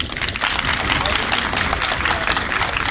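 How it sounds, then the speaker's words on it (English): An audience at a school sports week event claps in sustained applause, dense and fairly close, with a steady wash of hand claps throughout the few seconds. "give a big round of applause to my staff and students"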